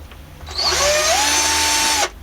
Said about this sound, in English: I'm just drilling a 1mm hole carefully in the tip of each one